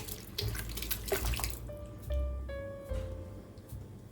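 Cooked beef with its liquid is poured into a pot, giving a steady watery splash and gurgle that thins out into softer trickling, close up and moderately quiet, with no talking.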